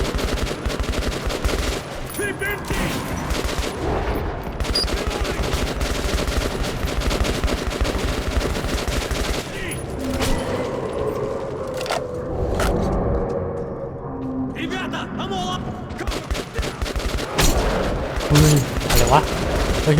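Heavy gunfire in the video game Metro 2033 Redux, during a defense chapter: loud, sustained rapid shooting and bursts with booms, continuing for the whole stretch, with a player's voice talking over it.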